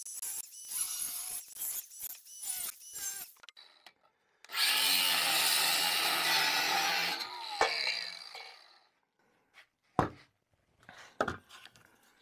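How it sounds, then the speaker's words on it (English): A power tool cuts into a steel snowmobile exhaust can on a 1983 Polaris Indy, giving a steady harsh grinding burst of about three seconds between handling clatter and sharp knocks. "I'm going to cut it on the outlet side just because it's easier to get to"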